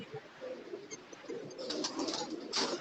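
Soft, repeated cooing of pigeons, several low throaty coos close by over a light background murmur.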